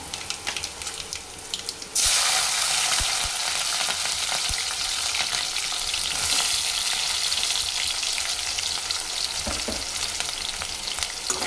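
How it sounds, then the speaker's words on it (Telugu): Onions and green chilies hit hot oil for a tomato curry, bursting into a loud, steady close sizzle that fills the rest of the stretch with occasional stirring clicks. "మంచిగా కలుపుకోవాలి ఇవైతే బ్రౌన్ కలర్లో వచ్చేంత వరకు అయితే వేపుకుందాం"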